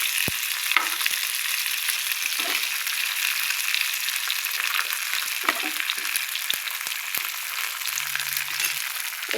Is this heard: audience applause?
no